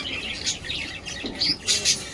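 Pet pigeons kept at home give short, bright calls in quick bursts, close by, with several calls spread across a brief quiet moment and no talking.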